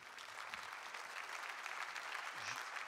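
Audience at a convention general assembly applauds, a dense continuous round of clapping at moderate distance with no pause.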